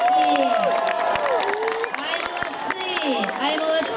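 Children applaud and cheer at a camp bonfire celebration, with a crowd of young voices shouting and chattering over dense, continuous clapping throughout, loud and close.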